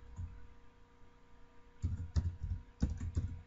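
Keys tapped on a computer keyboard while a file name is entered, quiet close-up clicks in a short burst, then a pause over a low hum before a quicker run of keystrokes.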